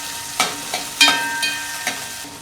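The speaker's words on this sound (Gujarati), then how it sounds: "આપણે આ ડુંગળી આમાં એડ કરી દેવાની ગેસ મીડિયમ રાખવાનો છે તેલમાં જરાક ડુંગળી આપણે સાતડી નાખીએ" Onion being sautéed in oil over a medium gas flame, with a steady sizzle and several sharp stirring scrapes spaced through the clip, no voices.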